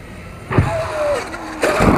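A Traxxas X-Maxx RC monster truck revs and whines as it pulls a wheelie, its motor pitch rising and falling in two close, loud surges.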